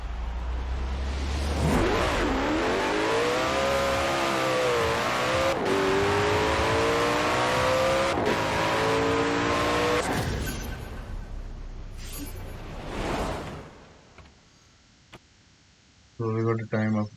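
A 2020 Koenigsegg Jesko in Forza Horizon 4 on an all-wheel-drive drag run, its engine climbing through rising revs with clear gear-shift breaks for about ten seconds before fading, followed by brief speech at the end.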